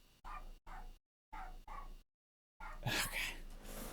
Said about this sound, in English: sorry if you can hear the dog